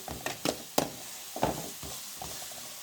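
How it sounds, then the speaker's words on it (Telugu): Ginger-garlic and green chilli paste masala frying in oil for an old-style potato fry, with a low steady sizzle broken by several sharp, close spoon scrapes and clacks against the pan at irregular intervals. "ఆయిల్లో ఫ్రై అవ్వాలి మసాలా"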